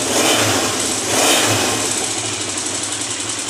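A 1984 Honda CB 400 motorcycle engine idles at about 1500 rpm, a steady, close, loud mechanical drone with a slight rhythmic pulse and no voices.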